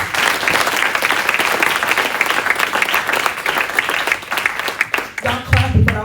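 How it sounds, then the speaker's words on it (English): A keynote audience at a youth event breaks into loud, close, dense applause that carries on for several seconds, then thins out as clapping tapers and a voice begins speaking near the end. "Y'all clapping"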